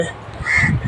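A crow gives a single short, harsh caw close by, over background noise where a crowd has gathered around a dead crow.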